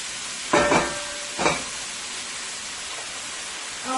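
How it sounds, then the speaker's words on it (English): Ground beef fries in a pan with a steady low hiss. Two brief louder bursts of sizzle stand out, like the meat being stirred or turned, then the hiss settles back. "You're going to let your meat fry until it's fully cooked."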